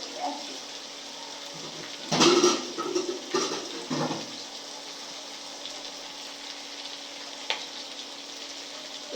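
Water poured into a pan of flat beans frying in spiced oil gives a sudden loud hiss and sputter that fades within a couple of seconds, then a quieter, steady sizzle goes on.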